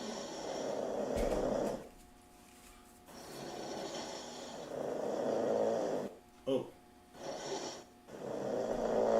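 A snoring sound effect set off by accident during a live stream: slow, repeated rumbling snores in a steady in-and-out rhythm, with a brief exclamation from a voice partway through.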